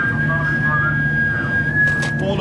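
A person whistles a single steady, thin tone inside the WW2 submarine HMS Alliance. It is held for a couple of seconds over a low background murmur of voices and hum.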